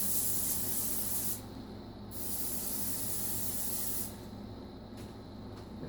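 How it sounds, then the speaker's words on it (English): Two bursts of olive oil spraying from a pump can onto zucchini, each a second or two long, close and hissing, with a brief pause between them. "I'm going to spray down on the bottom with some olive oil"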